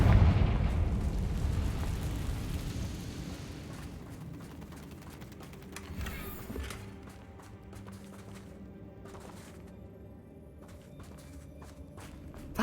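A Confringo spell explodes in a Harry Potter wizarding video game, a loud burst at the start that rumbles and decays, followed by quieter footsteps and ambient game sounds.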